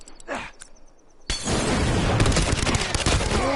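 Rifle gunfire in The Last of Us multiplayer on PS5 suddenly erupts into a loud, dense, sustained burst of rapid shots after a quiet stretch with faint ambient sounds.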